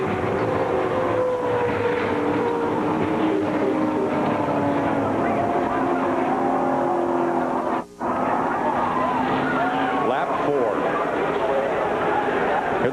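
A pack of NASCAR stock cars roars past at a superspeedway as the field heads to the flag after a multi-car crash, giving a dense, continuous engine din, loud and sustained with one brief dropout, while a commentator talks over it.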